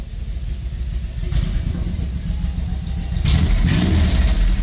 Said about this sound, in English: That's a motorcycle.